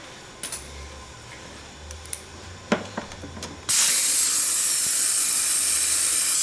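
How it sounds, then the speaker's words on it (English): A few faint clicks and taps, then a sudden loud, steady hiss of a compressed-air vacuum coolant filler on a Peugeot/Citroen 1.6 HDi engine bursts in and continues unbroken to the end. "It uses compressed air to create a vacuum."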